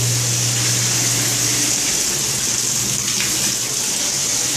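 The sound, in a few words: water draining out of a water heater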